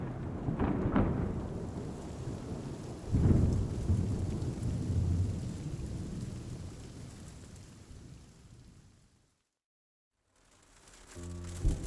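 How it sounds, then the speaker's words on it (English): Thunderstorm with rain in the Love and Deepspace video game: low rolling thunder rumbles over steady rainfall, with a heavy clap around the third second, a brief silent gap near the end, then the storm returning. "I guess the storm's brewing."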